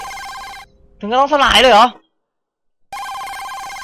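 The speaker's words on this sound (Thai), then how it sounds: "โทรศัพท์ดังอยู่แล้ว" Telephone bell ringing in a horror video game, a steady electronic ring heard before and after a sudden burst of panicked talking, then a brief silence before the ringing resumes.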